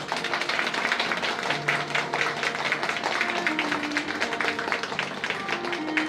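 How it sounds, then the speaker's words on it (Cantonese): Wedding guests at a Western-style banquet reception applaud the couple, producing dense, continuous clapping that stays loud and steady throughout, with faint music underneath. "我哋一齊俾掌聲送俾佢哋"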